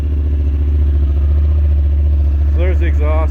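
A Honda Talon R side-by-side idles with a steady, loud low exhaust rumble throughout, and a voice speaks briefly near the end.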